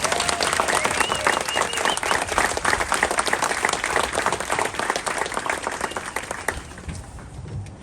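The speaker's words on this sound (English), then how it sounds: "So I think we also deserve a big round of applause for her." Spectators at a half marathon event give a round of applause, thick, continuous clapping from a sizable crowd that stays strong for several seconds before thinning out and fading near the end.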